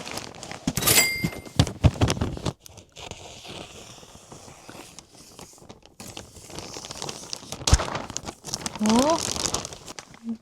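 Packaged IKEA orthopedic pillow being unwrapped, with loud close crinkling and tearing of plastic wrapping in bursts, rustling and handling noises in between, and a person speaking at times.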